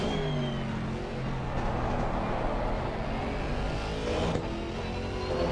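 A GT3 race car engine in Assetto Corsa Competizione, a loud sustained roar under steady throttle with shifting pitch and a brief change as gears shift, heard alone.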